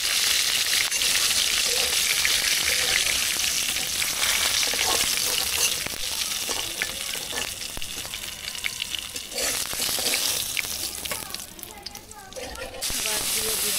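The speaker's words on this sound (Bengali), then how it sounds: "মাছ ভাজা হয়ে গেছে, লাল লাল করে ভেজে নিচ্ছি" Pangas fish frying in hot oil in a pot, a steady loud sizzle running throughout with occasional scraping and stirring clatters, slightly quieter near the end.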